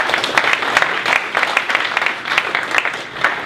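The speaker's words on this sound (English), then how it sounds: "Round of applause to Mr. Tran, please." An audience applauds at a pitch competition, a steady burst of dense clapping from a crowd lasting a few seconds, fairly loud and close, with no talking over it.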